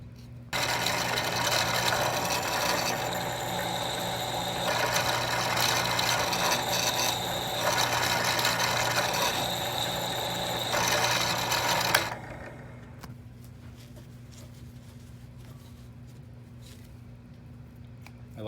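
A drill bit cuts steadily into the rear quarter window metal of a 1966 Ford Mustang, giving a loud continuous grinding whir for about twelve seconds before stopping into quiet.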